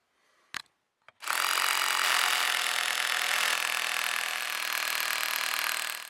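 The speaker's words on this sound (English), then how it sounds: "I want to mark this and drill and put some anchors in for that" A power drill bores anchor holes into a wall for a whole-house water filter bracket, a couple of brief taps then a loud, steady high whine running without a break, close by.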